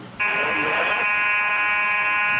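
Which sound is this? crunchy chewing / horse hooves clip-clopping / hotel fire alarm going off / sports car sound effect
hotel fire alarm going off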